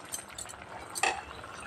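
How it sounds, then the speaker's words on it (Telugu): Spoon clinks against a pot while salt and spices are stirred into a chicken curry, a few light scrapes and one sharper metallic clink, close and quiet, with no talk. "మొత్తం కలిపేసాం కదండి."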